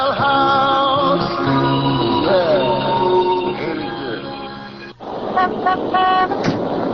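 Several car horns honk over one another in a traffic jam as a radio drama sound effect, loud overlapping toots of varied pitch, dropping out briefly before more blasts follow.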